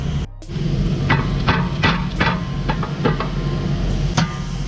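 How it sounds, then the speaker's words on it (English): Repeated metallic hammer strikes on a brake rotor of a Pontiac G8 GT ring out at an uneven pace, close by, over a steady low hum, loosening the rotor for removal. "We'll get a hammer and hit this so we can get the rotor out."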